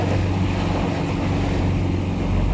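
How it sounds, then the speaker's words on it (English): Heavy sea swell and waves washing around a small fishing boat off Falmouth, Cornwall, a loud continuous roar of water mixed with buffeting wind noise on the microphone. "there's a hell of a swell here."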